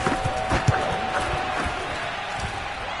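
Stadium crowd at an NFL game between Washington and the 49ers roars steadily after a Washington touchdown, a dense, continuous wash of cheering with scattered shouts and a faint whistle-like tone running through it.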